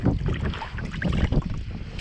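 Wind gusting outdoors along a shoreline during fly fishing, a low rumbling buffet against the microphone with continuous breezy rushing, fairly loud and unbroken.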